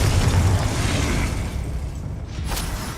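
A Confringo spell explosion in Hogwarts Legacy: a loud, broad booming blast with a rumbling low end that sustains, then fades into a roaring tail with a brief sharp crackle near the end.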